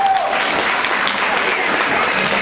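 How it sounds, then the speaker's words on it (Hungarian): An audience at a church congregation quiz competition breaks into a short, full burst of applause for the first-place team, steady and close throughout. "egy nagy tapsot és egy virágot"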